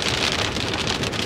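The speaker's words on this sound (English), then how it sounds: "It's raining now, so looking at about 3 days of rain." Steady rain falls in a brief, even hiss of drops striking surfaces, close and unbroken, with no voices.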